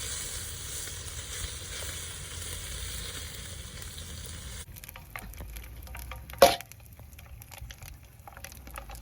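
Breakfast sizzles and spits in a pan on a Trangia camping stove at the beach, a steady close frying hiss that thins out midway, broken by one sharp clatter.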